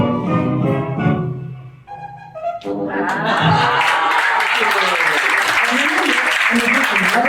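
Audience applause breaks out at a nightclub magic show in a dinner theatre, swelling from about three seconds into loud, sustained clapping after a brief stretch of music and stage sound.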